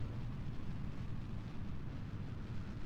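A steady, low roaring rumble of a rocket engine burning in Kerbal Space Program, continuous and fairly faint, with no breaks or voices.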